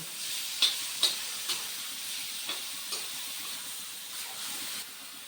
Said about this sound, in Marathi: टोमॅटोही मस्त शिजवून घ्यायचा आहे, छानपैकी भाजून घ्यायचा तेलामध्ये.